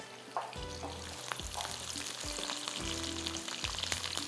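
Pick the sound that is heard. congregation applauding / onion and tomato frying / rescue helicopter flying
onion and tomato frying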